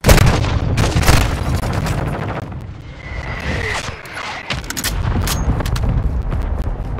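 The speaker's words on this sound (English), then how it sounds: "Hostile mortar strike incoming." Mortar strike in Call of Duty Modern Warfare: loud booming explosions and cracking impacts, dense at first, then scattered blasts and gunfire with rumbling debris, close and continuous.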